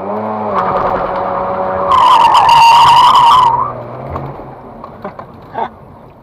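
A Mazda RX-8 drifting at a JDM event near Pezinská baba lets out a loud, sustained tire squeal of about two seconds over engine roar, then the noise fades with scattered thumps as the car moves off.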